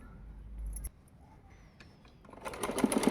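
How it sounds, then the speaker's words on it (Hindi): Sewing machine stitching the fitting of a circle frock, starting after a quiet stretch with faint handling clicks, then a fast rattling run of needle strokes that builds close and loud toward the end. "अब हम इसकी फिटिंग पर सिलाई करेंगे"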